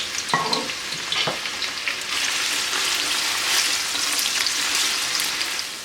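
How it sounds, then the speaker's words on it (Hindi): Sliced onions frying in oil until golden for chicken pulao give a steady, close hiss and sizzle, with a few stirring clanks near the start, continuous throughout and no talk. "तो प्याज को फ्राई कर लें"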